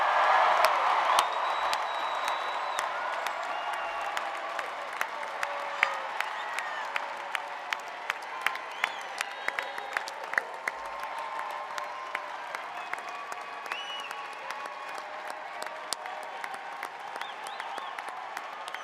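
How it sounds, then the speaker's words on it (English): A commencement crowd for the Class of 2025 at a college of communications claps and cheers, with whoops and sharp individual claps standing out as the broad applause slowly thins. "a big round of applause for the class of 2025"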